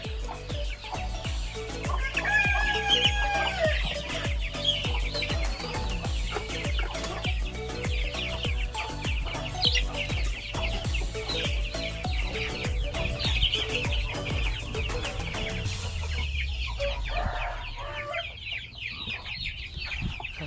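Many young chicks and ducklings cluck and chirp continuously at close range on a farm in the evening, a busy overlapping chatter of birds with occasional louder calls standing out.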